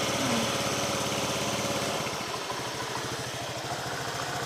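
A motorcycle engine, just serviced with fresh radiator coolant and oil, runs steadily at idle with a low, even chugging pulse, loud and close, with no talk over it.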